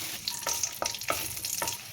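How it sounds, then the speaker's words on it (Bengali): Raisins frying in hot ghee with whole spices, a bright continuous sizzle punctuated by several crisp stirring scrapes at an uneven rhythm, close and fairly loud. "তো কিশমিশটা ভালো করে আমরা ভেজে নেব।"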